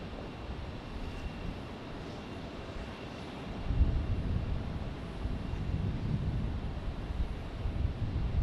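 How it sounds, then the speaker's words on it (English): Southwest airliners departing Tampa International Airport, their jet roar a broad low rumble that swells partway through and stays steady, mixed with wind buffeting the microphone. "Back-to-back looks like Southwest departures"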